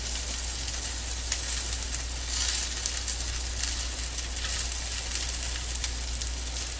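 Breaded shrimp fry in a pan as they are flipped, with a constant bright sizzle of hot oil close by that swells slightly now and then.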